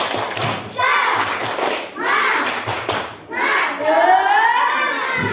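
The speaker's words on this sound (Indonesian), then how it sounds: "Ya, tepuk semangat." Schoolchildren in a classroom perform a rhythmic spirit clap, bursts of hand claps mixed with loud chanted voices in several short phrases.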